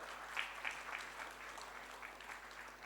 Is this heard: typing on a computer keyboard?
no